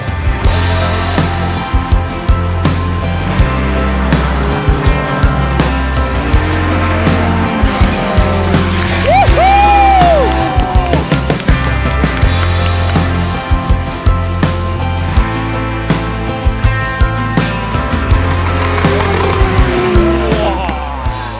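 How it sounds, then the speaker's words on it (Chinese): Drift cars chasing at World Time Attack Challenge 2023, engines roaring loudly with shifting pitch and tires squealing through long slides, a dense continuous wall of noise with a crowd around. "接下来就是非常精彩的漂移追走。"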